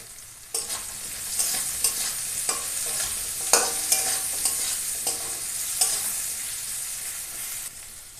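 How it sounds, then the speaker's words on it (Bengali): Potatoes with salt and turmeric frying in a pan, a close steady sizzle with repeated sharp scrapes and knocks of a spatula as they are stirred, no one speaking. "এ দেখো আলু ভাজা ভাজা হয়ে গেছে"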